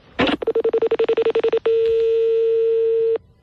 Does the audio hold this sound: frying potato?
no